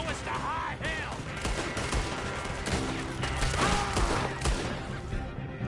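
Gunfire fills a Red Dead Redemption 2 shootout, with dense overlapping shots and bursts crackling continuously at close range while a voice speaks over the fight.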